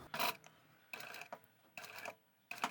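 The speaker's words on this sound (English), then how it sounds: "I'll just stitch straight up a few stitches" A sewing machine fitted with a zipper foot runs in four short stitching bursts separated by brief pauses, sewing a lined mini pyramid pouch; the whirring is close and fairly loud.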